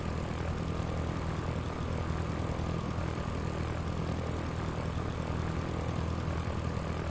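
Steady drone of a Cessna propeller aircraft engine in a flight simulator game, a constant low hum that runs unbroken and evenly loud throughout with no talk.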